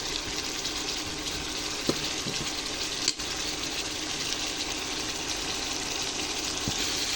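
Mutton bhuna of goat meat sizzles in a pan right after tomato sauce goes in, a steady, even hiss with no voices, holding at a constant level throughout.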